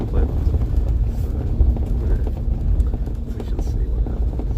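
Inside a moving bus on a snowy winter route from Bayonne toward Pamplona, a low engine and road rumble drones steadily throughout, with wind-like hiss and faint muffled voices in the cabin.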